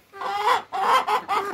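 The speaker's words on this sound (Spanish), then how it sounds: "Tantas gallinas." Native Peruvian hens cluck close by in a few short, harmonic bursts, with no other sounds.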